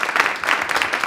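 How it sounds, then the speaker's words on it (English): Theatre roundtable audience giving a round of applause, a brief stretch of continuous, moderately loud clapping from many hands. "Let's give them one more round of applause."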